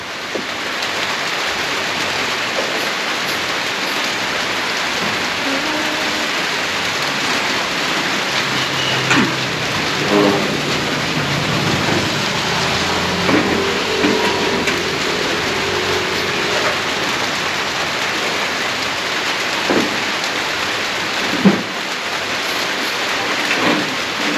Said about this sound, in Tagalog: Ay, ulan ka talaga.